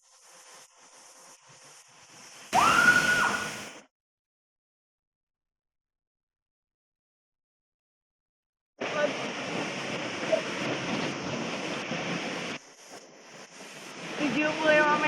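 Rushing waterfall pouring into a pool at the base of a 75-meter drop, a loud broadband roar heard in two stretches separated by several seconds of silence.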